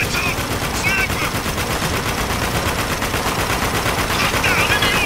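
Heavy machine gun turret in Spec Ops: The Line firing continuously, a dense, loud rattling stream of rapid shots with no pauses, backed by battlefield noise.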